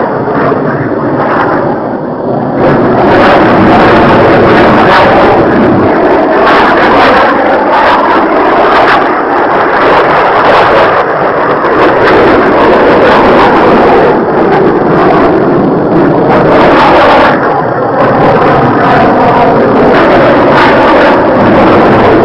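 Soviet MiG-21 jets roar overhead in an unusual seven-plane aerobatic formation, a loud, continuous broadband jet rush that swells and fades over about twenty seconds, with wind buffeting the microphone and no talk.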